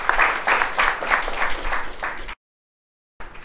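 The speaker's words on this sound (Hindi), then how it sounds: "टीम बी के लिए जोरदार तालियां हो जाएं।" Applause for a team in a classroom quiz contest, a burst of rhythmic clapping from a small group that drops to silence, then briefly resumes.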